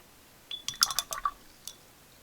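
A wet paintbrush dips and swishes in a water jar while watering out pastel swatches, giving a quick cluster of small clinks and drips, then one last faint tap.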